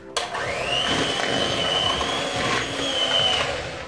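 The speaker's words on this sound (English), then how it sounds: "I'll be whisking this for 5 to 6 minutes until it turns pale in color and it's nice and smooth" Room-temperature butter and granulated sugar are whisked together, making a steady, continuous high whirring motor drone close by that holds for several seconds without a break.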